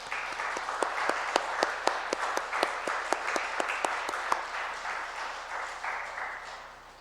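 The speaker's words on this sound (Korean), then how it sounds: "박수 한번 해주시기 바랍니다." A church congregation at an Easter Sunday morning service applauds the choir, producing a sustained, dense round of clapping with sharp individual claps standing out before it gradually thins and fades.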